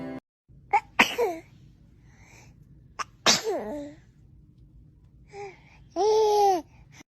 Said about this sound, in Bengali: বুঝলাম না এটা কোন ধরনের কাশি?